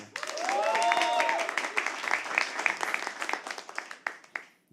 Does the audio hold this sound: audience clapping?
yes